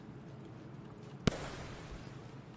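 A single sharp explosion from the Artificer in the video game Rain World Downpour: one short, loud burst against a quiet background.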